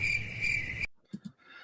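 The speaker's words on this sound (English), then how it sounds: "I also have crickets on here" Steady, shrill cricket chirping from a sound-effect soundboard runs loud and continuous for under a second, then cuts off abruptly, leaving near-silence with a few faint knocks and rustles.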